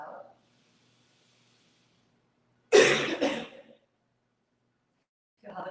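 A single forceful cough expels the breath in a hatha yoga class, a close double burst between quiet pauses, with faint voice fragments at the edges.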